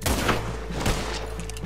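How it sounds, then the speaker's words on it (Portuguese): Rifle shots from the video game Red Dead Redemption 2, a few loud cracks fired in quick succession amid ongoing game noise. "Esse aqui vai ser tiro de rifle,"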